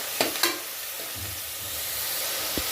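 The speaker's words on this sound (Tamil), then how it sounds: "இது கூடவே நெய்ஸாக கட் பண்ண பெரிய வெங்காயம் 4 வெங்காயம் சேர்த்துக்கிறேன். வெங்காயத்தை நல்லா வதக்கிக்கலாம்." Sliced large onions sizzle steadily in a hot pan for poori masala, with a few sharp scrapes of a spoon stirring near the start, close and alone.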